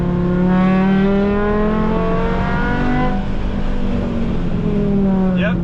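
A Mk5 Jetta accelerates out of a corner at The Podium Club race track. A steady, loud engine drone rises in pitch through the gears, heard up close from inside the car.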